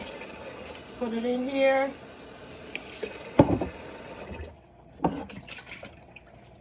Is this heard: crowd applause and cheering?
no